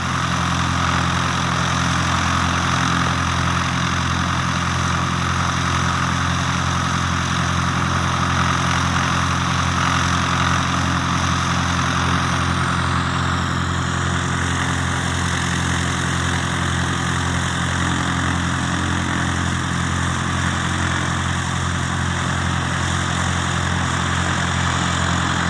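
A Cessna 152 light aircraft, G-BWNB, idles steadily while taxiing and running a power check at Leicester Airfield, its engine a continuous close drone whose tone shifts slightly partway through.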